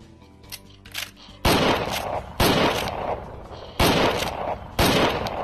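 Rifle shots fired in the Wild West VR game Private Property ring out loud and close, four sharp cracks at about one-second spacing, each followed by a long booming decay, with quieter clicks and handling before the first.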